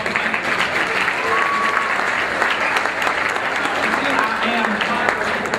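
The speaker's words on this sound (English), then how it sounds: "Let's give a round of applause for that." A crowd claps enthusiastically, sustained applause filling the room at a steady, loud level with some voices mixed in underneath.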